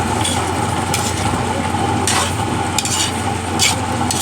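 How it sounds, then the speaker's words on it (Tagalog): Eggplant (talong) being stirred in a sticking cooking pan, a steady scraping and shuffling under a continuous background hum, with a few brighter scrapes standing out, close and moderately loud. "Haluin ulit natin kasi dumidikit."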